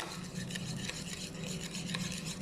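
Whipped dalgona coffee mixture is stirred briskly by hand without a whisk or mixer, giving a continuous close scraping, swishing rhythm of a utensil working through thick foam.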